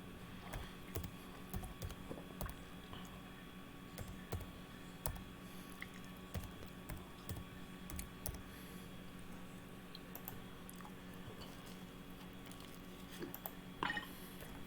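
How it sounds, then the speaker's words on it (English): A name is typed on a computer keyboard during a Marvel Future Fight live stream, with quiet, irregular key clicks pattering in scattered bursts over a low room hum and no talking. "Typing in your name right now."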